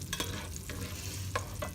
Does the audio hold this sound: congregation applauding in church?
no